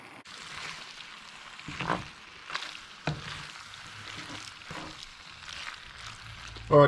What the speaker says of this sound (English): Alright, we'll get that on a simmer